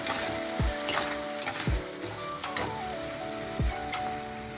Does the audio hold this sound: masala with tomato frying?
yes